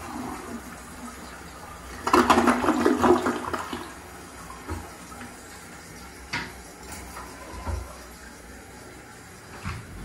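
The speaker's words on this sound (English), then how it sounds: "I'll give you guys a flush real quick." A Toto toilet flushes indoors with a loud, rushing burst of water for about two seconds, then fades into quieter gurgling and a few faint clunks as the tank refills.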